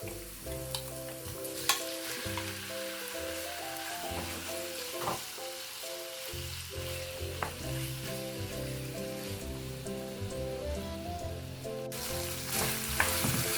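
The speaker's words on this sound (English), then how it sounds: "I will start to stir fry my prawns first." Prawns seasoned with garlic and ginger stir-fry in a hot pan, giving a steady loud sizzle with scraping and clattering stirring strokes throughout, and no talking.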